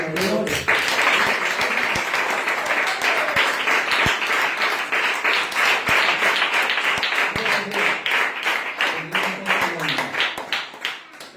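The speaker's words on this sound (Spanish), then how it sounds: "Denle un fuerte aplauso al Señor." Loud, sustained applause from a church congregation at an evening service, dense clapping holding steady for over ten seconds with a few sharper claps standing out before it begins to thin at the end.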